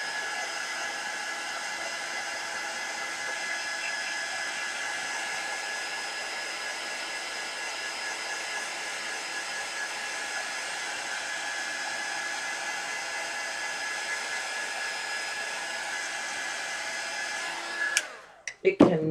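A hair dryer blows steadily and close for nearly twenty seconds, drying craft work, then shuts off with a few clunks of handling at the end.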